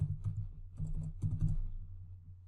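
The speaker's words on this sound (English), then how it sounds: "So let's type in that password." Password being typed on a computer keyboard, with quick bursts of close, crisp key clicks separated by short pauses, and no talking.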